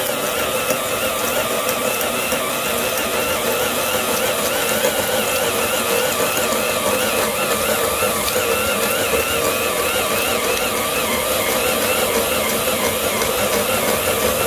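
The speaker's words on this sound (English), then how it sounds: "this should blast right through it" A Milwaukee 1001 half-inch D-handle drill bores through wood, giving a loud, steady mechanical grinding and whir that holds without a break, heavily loaded throughout and with no talking.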